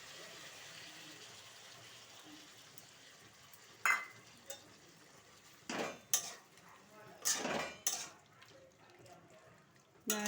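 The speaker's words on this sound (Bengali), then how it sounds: "নাড়াচাড়া করে আমি আরও একবার ঢাকা দিয়ে দেব।" Bottle gourd with poppy seeds is stirred in a pan, with a quiet background broken by a few sharp clinks and scrapes of a utensil against the metal, spaced irregularly.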